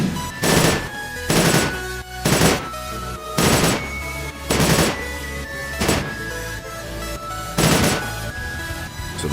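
Rapid burst gunfire from a weapon in the Roblox game Boku no Roblox, about eight loud, punchy bursts spaced roughly a second apart with ringing tones hanging between them, close and alone.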